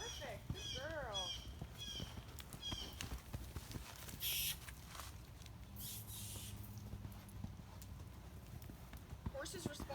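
A training horse moving nearby with soft clip-clop hoof steps and light patter, faint and uneven, while a person talks over it and birds chirp in the background.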